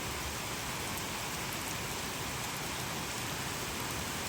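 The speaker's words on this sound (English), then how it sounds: "It's raining really hard." Heavy, dense rain pours down steadily, a constant loud hiss of water with no other sounds.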